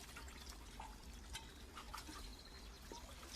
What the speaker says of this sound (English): A continuous stream of spring water is piped right into a basin